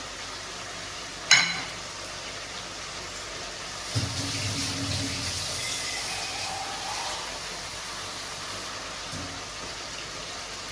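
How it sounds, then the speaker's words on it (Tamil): Water splashes into a pot of mutton curry in a short steady pour lasting a couple of seconds, with clinks and a soft trickle afterward in a quiet kitchen. "இதில் கொஞ்சம் தண்ணி சேர்த்துக்கலாம்"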